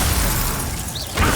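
A Glacius ice spell goes off in Hogwarts Legacy combat, a loud crackling, shattering burst filling the short moment with a sharper crunch near the end.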